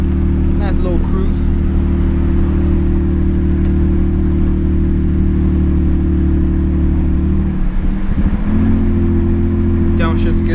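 A Mercedes W205 engine drones loud and steady from inside the cabin, then a brief blip near the end as it downshifts and settles at a new pitch; a short voice is heard at the start and end.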